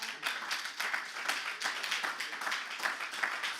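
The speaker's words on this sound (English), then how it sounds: "which you can clap for that." A free public event at Clement's Place, An Evening with Monty Alexander, draws a steady round of audience clapping, dense, moderately distant, and even throughout with no voices over it.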